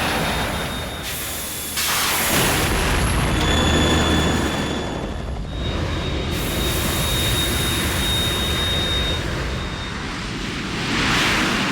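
Harrier jet in the video game Metal Gear Solid 2 roars in a loud, sustained whine and rumble with whooshing surges and high tonal engine whistles, filling the scene for over ten seconds.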